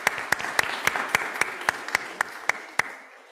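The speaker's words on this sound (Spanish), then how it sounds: "Ustedes, un aplauso también para ustedes para ayudarnos." Church congregation applauding after Mass, with steady rhythmic clapping of about a dozen evenly spaced claps over a bed of scattered hand claps, fading out near the end.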